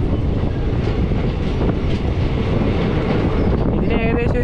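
The Matsyagandha Express rumbles steadily with rhythmic wheel clatter as heard from inside a carriage while entering a tunnel, and faint squealing tones rise near the end.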